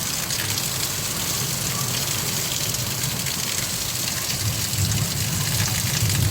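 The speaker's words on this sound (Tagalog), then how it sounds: "Grabe ang agos ng tubig, oh." Heavy rain pours steadily during a hail storm in Mysore, India, with a dense hiss of rushing water, constant and loud throughout, with no voices.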